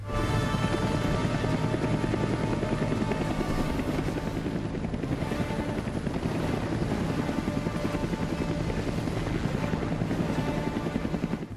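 Loud, steady helicopter rotor thump and engine roar from an action movie scene, dense and continuous throughout with a layered cinematic soundtrack mixed in.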